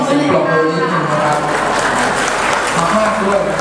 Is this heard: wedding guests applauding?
yes